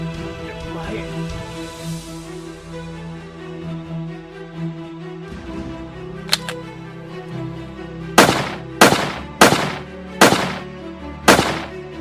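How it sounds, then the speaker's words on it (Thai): Five sharp gunshots ring out in quick succession near the end, loud and close, following a stretch of low rumbling background with faint voices. "พี่ผมว่าผมได้ยินเสียงปืนว่ะ"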